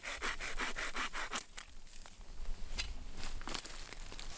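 A handheld saw with a blade mounted on an aluminum handle cuts through wood outdoors, rapid rhythmic rasping strokes up close, alone with no talk.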